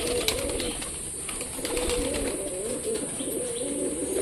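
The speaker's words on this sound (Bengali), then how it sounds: "কিছু পায়রা ওপরে গেল গাইজ" Several pets pigeons lift off and fly up onto a roof. Their wings flap in a continuous, dense rustle, with faint coos mixed in close by.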